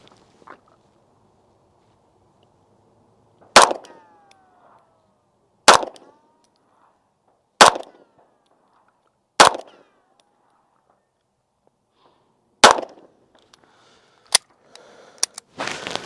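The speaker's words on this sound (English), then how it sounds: "I'm going to take my time with these shots." Beretta 92 pistol fired at a shooting range from about 15 yards: six or seven sharp, loud single shots spaced slowly a couple of seconds apart, each with a short ringing decay, with faint handling noise at the end.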